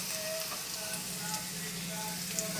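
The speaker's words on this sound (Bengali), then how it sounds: "আলুগুলো প্রায় হালকা হালকা ভাজা হয়ে গেছে" Potatoes fry in oil with onions and green chillies, giving a soft, even sizzle that runs steadily throughout at low volume.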